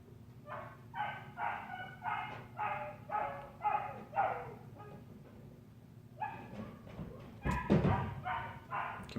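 An 8-week-old puppy whines and yaps in a rhythmic series of high, close cries, pausing briefly before resuming, with a thump partway through.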